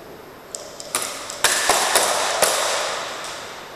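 Several sharp cracks of airsoft gunshots snap out one after another, some close together, ringing briefly in an echoing space.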